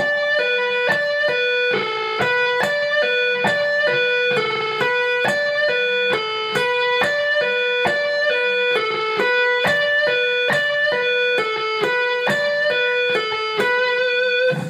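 An electric guitar plays a pentatonic rock lick slowly, distinct plucked notes in a repeating pattern, close and clear with no other sounds or voices.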